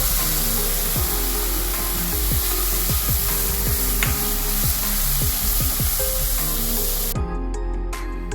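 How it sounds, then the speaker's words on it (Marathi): Gravy poured into hot oil already holding whole spices and cumin for an aloo matar gobi curry sizzles steadily and loudly, with repeated scraping stirs and clinks of a spoon against the pan throughout. "आणि आता ग्रेव्ही टाकू."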